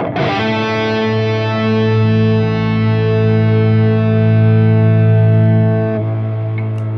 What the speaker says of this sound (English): As you can hear there with the octaver, when I mash it down, it adds more octave to it.